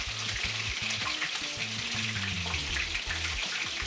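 Meatballs sizzle and fry in a pan, a steady, close hiss of hot fat with soft stirring and shifting, continuous throughout as they are moved into the sauce.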